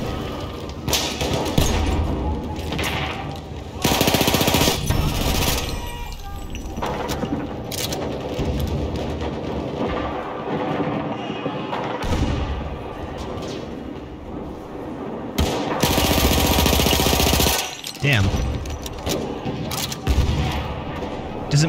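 Rapid gunfire rattles through Battlefield 1 combat at Fort De Vaux: loud, dense volleys with booming explosions come in repeated surges over a constant battle din, and voices are audible.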